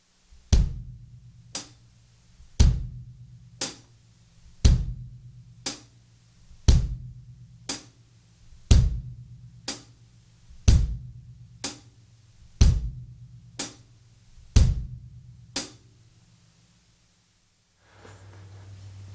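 Drum kit playing a steady groove with hi-hat on every quarter note and bass drum on beats 1 and 3, about a dozen evenly spaced sharp hits with deep thumps under them, close and clear, stopping near the end.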